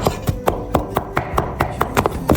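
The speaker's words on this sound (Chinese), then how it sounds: "大蒜拍碎剁成末" A knife chops smashed garlic cloves into mince on a cutting board, with about a dozen sharp, evenly spaced close taps in quick rhythm and no talking.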